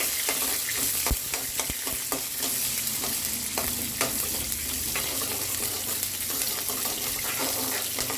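Dals, onion and curry leaves frying in a pan for upma, a constant crackling sizzle broken by frequent sharp spatula scrapes and taps in an irregular rhythm. No speech.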